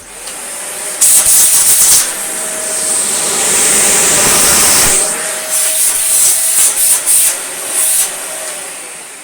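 Dyson DC40 vacuum cleaner running close by, a loud, steady airy roar with rubbing, brushing surges as the head moves over a surface.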